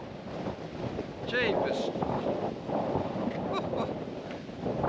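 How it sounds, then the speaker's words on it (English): Strong coastal wind gusting across the microphone on a Kapalua hiking trail in Maui, a loud continuous roar with surging buffets throughout, while someone speaks briefly over it. "It's incredible how violent the wind can be."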